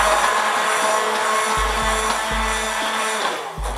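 A hand blender whirs steadily while mixing a homemade organic hair mask in a bowl, a loud constant motor drone with a few brief dips in pitch as the blade shifts through the mixture.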